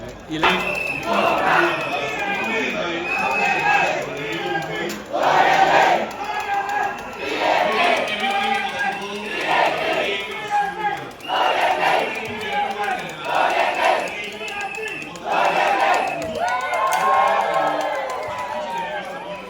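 Crowd at a Singapore GE2025 election rally roars and cheers in repeated surging waves, loud and close, with shouts and voices mixed through the noise.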